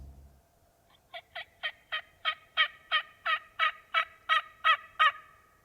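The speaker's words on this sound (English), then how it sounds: "There wasn't a ton of birds this morning, just really the one gobbling" A wild turkey gobbles in a long run of about fourteen rapid, evenly spaced calls during a morning hunt, each growing louder and clearer, in quiet open surroundings.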